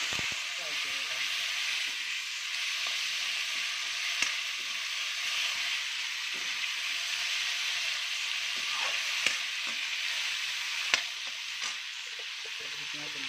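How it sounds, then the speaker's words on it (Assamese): Salted ingredients for egg curry fry in a pan with a steady, close sizzle and hiss, broken by a few faint clinks of stirring, with no talking. "ফ্ৰাই কৰি ল'ম।"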